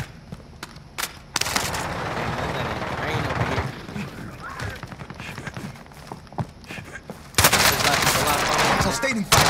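Video game gunfire crackles in rapid bursts and sustained automatic volleys, loud and close, with sharp isolated shots early and a heavy fusillade toward the end.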